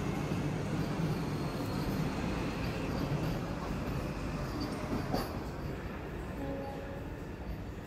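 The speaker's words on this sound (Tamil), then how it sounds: "இப்போ நான் வந்த ட்ரெயின் கிளம்பிடுச்சு" A new Chennai AC local train pulls away, a steady broadband rumble of wheels and carriage noise filling the platform, easing slightly toward the end with a brief squeal and faint tonal hum.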